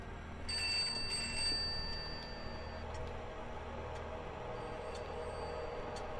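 Telephone ringing inside a house in the horror game Pineview Drive: a thin, faint ring repeating from another room over a low steady ambient hum, with quiet ticking beneath.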